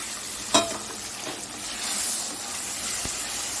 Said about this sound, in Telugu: ఇప్పుడు మనం ఇవన్నీ చేపలు కడిగి పెట్టుకున్నాం కదా గట్టిగా పిండి ఆయిల్లో వేసేయాలి